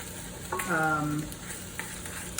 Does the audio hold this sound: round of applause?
no